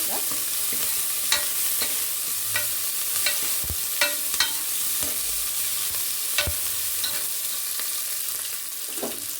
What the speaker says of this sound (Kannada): ಈರುಳ್ಳಿಯನ್ನು ಹಾಕ್ಕೊಳ್ತಾ ಇದ್ದೀನಿ. ಸ್ವಲ್ಪ ಈರುಳ್ಳಿನ ಮಗ್ಸ್ಕೊಳ್ಳೋಣ.